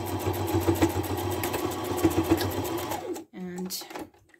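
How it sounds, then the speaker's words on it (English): A sewing machine runs steadily for about three seconds, doing a few forward stitches and a back stitch on a fat-quarter kitchen scarf, then stops, followed by a brief mechanical whir. "I'm just gonna do a couple of stitches, back stitch, and then just go forward."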